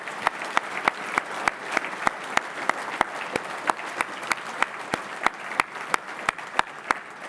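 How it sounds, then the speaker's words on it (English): Audience at an awards banquet applauds steadily, a soft even wash of clapping with sharper individual claps landing at a regular beat, moderately distant and without speech. "Big round of applause for them."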